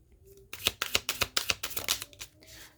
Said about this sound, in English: I'll just get some more clarifiers here with our tarot cards